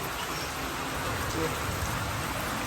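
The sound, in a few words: rain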